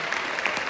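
Short burst of audience applause at a stand-up comedy show, a steady dense patter of clapping at moderate level with no voices over it.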